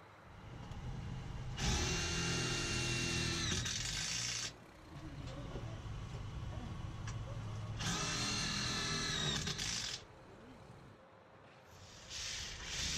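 A power drill drives fasteners into a standing seam metal awning frame in two loud, sustained bursts of whirring, separated by a quieter stretch of background noise.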